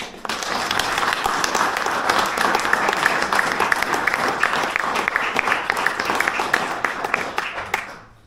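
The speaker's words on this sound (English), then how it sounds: "So a round of applause." Members of a woodworkers' fellowship meeting applaud Bob's new life membership with a lively, continuous round of clapping that stays full and bright for about eight seconds before trailing off.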